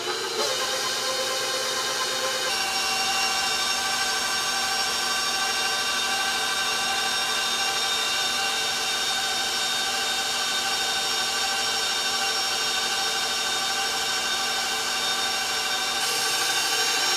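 An electric mixer beats ricotta pumpkin cheesecake batter with a steady, continuous motor whir, close and even. Its pitch shifts slightly near the start and again near the end.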